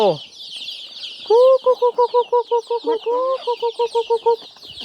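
Chickens cluck close by in a quick run of short, evenly spaced clucks, two bursts of rhythmic calls over a constant high insect-like buzz in the background.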